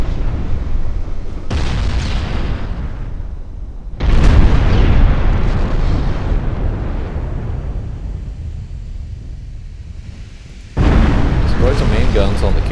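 Main naval guns firing aboard warships in the Ultimate Admiral game, heavy booming blasts that open and then return a few seconds later, each followed by long rumbling decay, loud and close.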